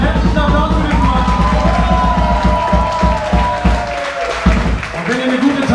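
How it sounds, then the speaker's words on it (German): Concert crowd at a live rock show claps and cheers loudly, a sustained wash of applause with some whoops, while a voice speaks over a sound system. "einen herzlichen Applaus für dich"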